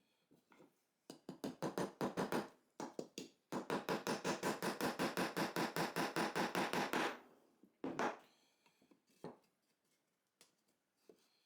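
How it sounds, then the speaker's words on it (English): Nail being hammered into a wooden board to fix a strip of fabric-backed sandpaper as a hinge, heard as a long rapid run of close, sharp, evenly spaced hammer blows framed by shorter bursts and scattered single taps. "Cut out a strip and nail it on the board."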